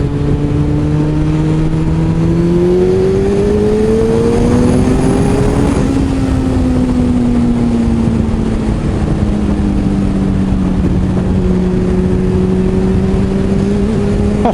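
A 2008 Suzuki Hayabusa motorcycle engine revs up and accelerates loudly and continuously, pitch rising then easing and climbing again, with strong wind rush over it and no voices.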